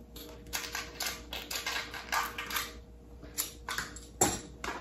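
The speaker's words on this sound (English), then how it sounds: "using your peeler works really great." Spikes are peeled off an aloe vera leaf with a kitchen peeler, producing a series of short, close scraping strokes in an irregular rhythm, with no talking.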